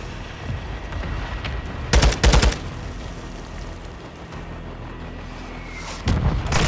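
Turret machine-gun fire in a Call of Duty match: two short rapid bursts close together, then a third burst at the end, over steady game ambience.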